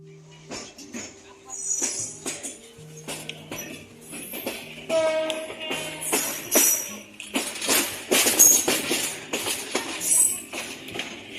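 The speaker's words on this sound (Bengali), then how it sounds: "অল্পক্ষণের মধ্যেই ট্রেনটি ঢাকার উদ্দেশ্যে রওনা হবে" The Parabat Express pulls out of a station with sharp metallic clanks and knocks over humming tonal sounds. The clatter grows busier and louder toward the middle and then eases off.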